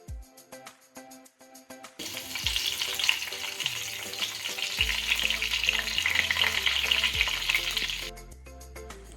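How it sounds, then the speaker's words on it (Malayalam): Curry leaves hit hot coconut oil and erupt into a loud, crackling sizzle that holds steadily for several seconds, framed by quieter background music before and after, with no talk. "എണ്ണ നന്നായി ചൂടായതിന് ശേഷം നമുക്കതിലേക്ക് കറിവേപ്പില ഇടാം."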